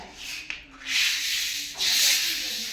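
Sandpaper is rubbed by hand over a surface during household cleaning, making a few long, rasping strokes up close, each loud and scratchy with short gaps between them.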